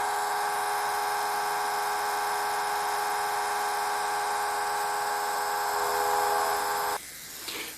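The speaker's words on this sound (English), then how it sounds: "Here I have a relatively bigger DC motor here connected to the 13 volt output" A fairly large DC motor runs from a 13-volt output of a rectified, modified AC-DC variable power supply, a steady high-pitched electric whine that holds for several seconds, then cuts off abruptly into a quieter rattle.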